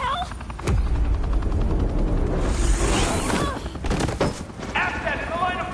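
Gunfire in the Batman: The Enemy Within video game, a dense loud barrage of shots and bursts with whooshing effects under a chaotic mix, with voices talking over parts of it.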